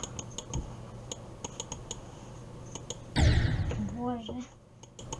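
A computer mouse clicks repeatedly in sharp, light taps while Geometry Dash is played, with a brief burst of game sound effects near the end.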